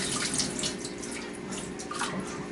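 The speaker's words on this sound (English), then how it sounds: "And we're gonna run this water off." Steady rush of kitchen tap water pouring continuously, close by, with no voices over it.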